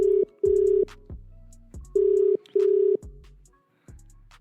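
A phone call is placed: clipped electronic tones sound, then a ringback pattern pulses in regular bursts with short gaps, close and clear, with no talking.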